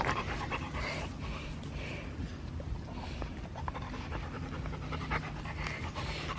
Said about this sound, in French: Les chiens sont vraiment quelque chose.